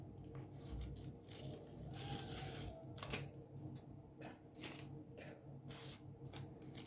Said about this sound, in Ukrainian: І так, віддираю я скотч.